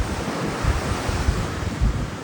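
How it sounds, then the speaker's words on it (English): Strong wind roars across the microphone at a seashore, a steady broadband rush with low gusty buffeting, surf blending into the noise. "It's really windy right now."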